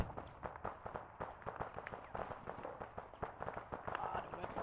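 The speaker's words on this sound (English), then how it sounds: "small arms fire coming in now, pull back" Rapid irregular cracks of small arms fire in ArmA 3 pop throughout, moderately distant and fairly quiet, with voices speaking over the shooting.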